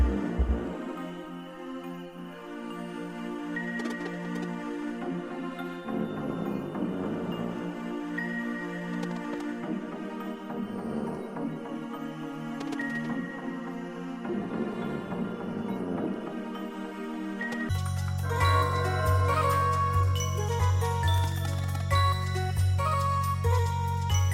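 Melodic music from the game Sea of Stars with chiming, tinkling tones, shifting partway through into a fuller section with a steady low pulse.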